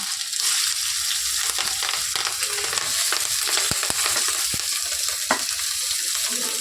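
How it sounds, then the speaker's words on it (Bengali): Panch phoron, ginger and green chilli frying in oil for vegetable chops: continuous loud sizzling with sharp pops and crackles scattered throughout, up close with no talk. "এক এক করে একটু ভেজে নেব।"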